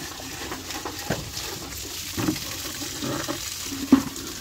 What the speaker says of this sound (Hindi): ऐसे हमारे यहाँ ऐसे ही आता है पानी।